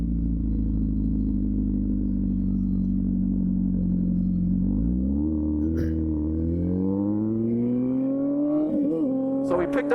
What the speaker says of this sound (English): it only has this Motus slip-on on it that is ridiculously loud